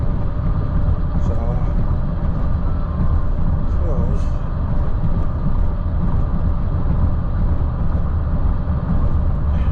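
Freight train hauled by several locomotives passing in Minot, North Dakota: a loud, continuous low rumble and rolling clatter fill the scene, with a few faint higher squeaks mixed in.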